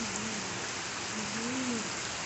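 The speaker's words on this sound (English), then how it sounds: "It's raining really hard." Heavy rain pours down steadily in a dense, continuous hiss, close and loud, with foggy weather outside and no voices.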